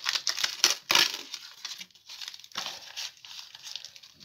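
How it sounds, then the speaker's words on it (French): Close crinkling and tearing sounds as a tiny taped package is pulled open, with sharp rips of tape and soft rustling in short bursts. "on va ouvrir ce petit paquet tout mini"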